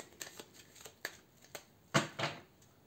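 Tarot cards riffled and shuffled for a reading, a series of soft papery flicks and slaps, close and quiet, with two fuller riffles near the end.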